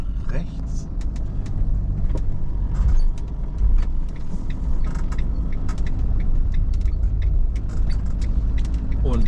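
A car rolls through a roundabout near List on the island of Sylt, with steady low road rumble and engine drone inside the cabin and scattered creaks and clicks, while people talk over it.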